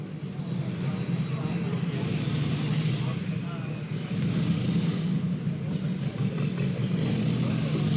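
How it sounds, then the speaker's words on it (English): Loud motorcycles and cars rumble steadily past a checkpoint in downtown Los Angeles, a continuous close engine roar with rising revs and no pauses. "there's gonna be a lot of loud motorcycles coming through here"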